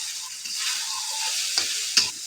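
White rice being fried and stirred in a pan for savory fried tiwul rice, a steady close sizzle with scraping stir strokes and two sharper clinks near the end, no talking.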